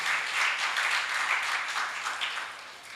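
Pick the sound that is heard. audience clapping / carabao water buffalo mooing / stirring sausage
audience clapping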